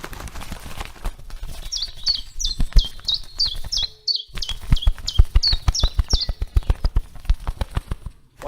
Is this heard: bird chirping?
yes